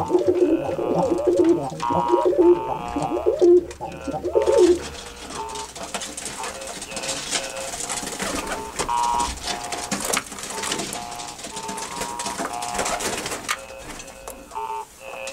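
Roller pigeons coo and call close by, with soft repeated throaty coos and bird calls mixed with background noise and some mechanical clatter.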